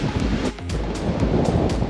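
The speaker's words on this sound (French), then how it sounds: "Forcément, le vent se lève aussi." Rushing wind buffets the microphone over the wash of waves at sea aboard a sailboat, a loud, continuous roar with brief gusting surges.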